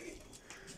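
Soft cooing from pet pigeons or doves kept at home, a brief low, muffled burble heard faintly and close by.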